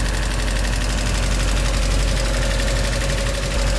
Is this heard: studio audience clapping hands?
no